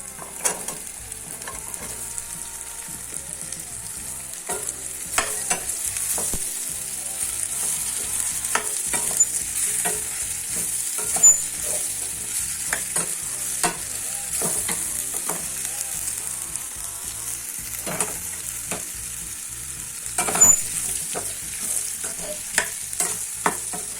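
Vegetable pieces fry and sizzle in a pan during home cooking, a steady hiss broken by scattered scrapes and clinks as they are stirred, close and continuous throughout.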